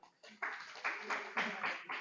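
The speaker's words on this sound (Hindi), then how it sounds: "एक बार इनके लिए ताली बजाइए सभी लोग" A group at a women's self-help group livelihood training session claps for a participant, several short bursts of applause indoors, fairly faint and mixed with voices.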